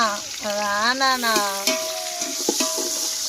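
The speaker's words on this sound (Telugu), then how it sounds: "ఉల్లిపాయలు అయితే పచ్చి వాసన పోయేంత వరకు అయితే ఫ్రై చేసుకున్నాము" Onions fry in a pan for biryani, giving a steady, close sizzling hiss with a few stirring knocks. A wavering tonal whine rides over the sizzle in the first half.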